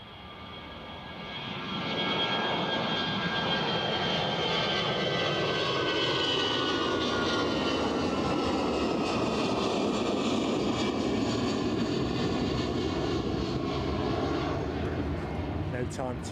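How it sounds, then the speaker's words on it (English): An Aer Lingus Airbus A320 jet passes an outdoor spotting location in Edinburgh, its engine roar rising within two seconds into a steady, loud rumble and whine that holds throughout, with a voice talking over it. "Aer Lingus returning to Dublin with their A320."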